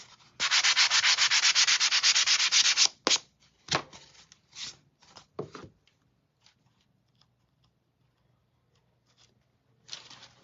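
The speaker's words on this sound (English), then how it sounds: "We're going to sand this. And this is with 320 grit." Sandpaper of 320 grit rubbed over a painted surface: a loud, steady scratchy burst of sanding for about two and a half seconds, then several short separate strokes and rubs, fading to near silence with one last brief stroke at the end.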